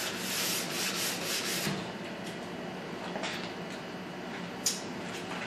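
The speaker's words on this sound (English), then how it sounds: "I often like to finish with a nylon brush just to make sure it's all clean and polished" A nylon brush scrubs back and forth over a ski base during waxing prep, giving a close, steady broadband rasping that fades to lighter strokes, with one sharp tap near the end.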